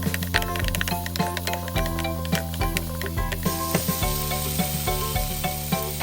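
Chinese sausage stir-fried in a pan for spicy Thai basil stir-fry, with close, continuous sizzling and repeated scraping and clacking of a spatula throughout.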